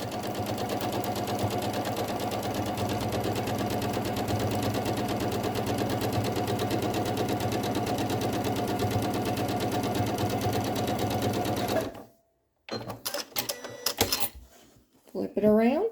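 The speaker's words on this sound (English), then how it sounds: "So, lining it up and stitching it down." Sewing machine stitching quilt pieces together, running in a steady, continuous mechanical whir for about twelve seconds, then stopping, followed by some handling noise.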